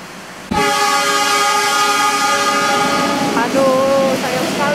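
A train hauled by locomotive 13100 with a panoramic coach passes close by, sounding a loud, sustained horn blast over the rumble of the cars, followed by a second shorter horn near the end.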